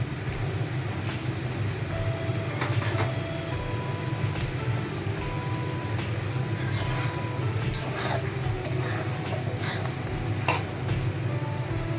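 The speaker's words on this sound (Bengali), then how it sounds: "এখন এতে আমি কেটে রাখা কাঁচামরিচ দিয়ে দিচ্ছি।" Chopped green chilies hit a hot pan while cooking prawns with kochur loti (taro stolons), giving a steady, moderately loud broadband sizzle with faint clinks, no voices.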